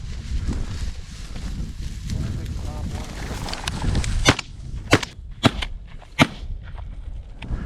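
Shotgun blasts while hunting quail and pheasant in Iowa: several sharp, loud reports spaced a second or so apart, following a stretch of outdoor talking and rustling.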